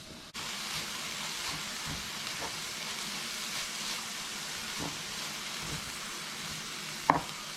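Shredded cabbage for a homemade Chiko Roll filling sizzles softly in a pan as it wilts, a low, even frying hiss with a few faint stirring scrapes and one sharper clink near the end.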